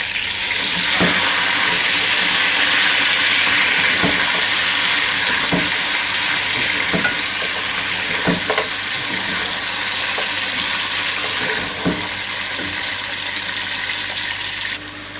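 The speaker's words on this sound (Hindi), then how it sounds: "मटन डाल देंगे जो कि हमने बॉयल करके रखा हुआ है।" Boiled fatty mutton sizzles and fries loudly in a pan, with steady hissing throughout and repeated clinks and scrapes of stirring near the mic, no speech.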